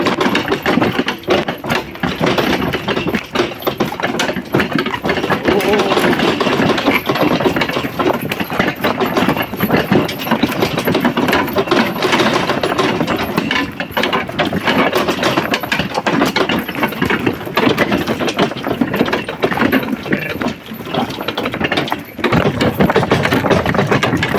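A Zherebets walk-behind tractor engine runs steadily and loudly during break-in on a garden plot, a constant harsh mechanical drone with rattling and scraping textures that barely changes for the whole stretch.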